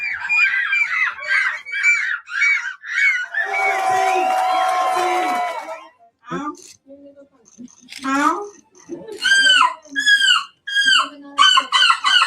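Contestants in a European seagull screeching championship imitate gull calls with their voices, a run of loud, harsh, rising screeches in quick bursts, with crowd noise and laughter between them.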